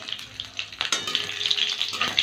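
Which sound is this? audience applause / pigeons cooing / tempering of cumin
tempering of cumin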